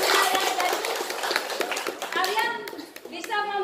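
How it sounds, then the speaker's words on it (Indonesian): A group of children and adults clap together in a classroom during a science lesson on rusting, steady dense clapping close by with children's voices and talk mixed in, some tonal speech toward the end. "Ya, tepuk tangan buat kita semua."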